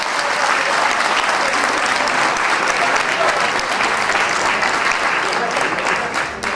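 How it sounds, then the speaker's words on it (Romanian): Audience at a Rotary festivity in Huși applauds the Trandafir de la Moldova folk ensemble, a dense, sustained burst of clapping that stays loud throughout and fades slightly at the end. "vă rog să aplaudați pe membrii ansamblului folcloric Trandafir de la Moldova"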